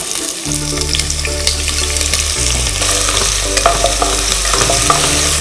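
Onions frying in a pan with cinnamon, star anise and a bay leaf for pulao, a loud, continuous sizzle with stirring scrapes close up and no voices.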